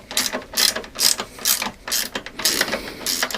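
A ratchet tightens the three bolts holding a Peugeot 205 suspension strut to the chassis, giving about eight rhythmic bursts of close, crisp clicking with short pauses between strokes and no talking.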